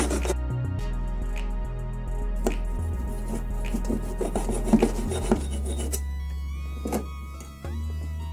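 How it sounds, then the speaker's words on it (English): A hand saw works through hardwood held in a miter box, giving close, rhythmic rasping strokes over a low steady hum. "I'm using a hardwood, so I'm gonna use the miter box and the saw."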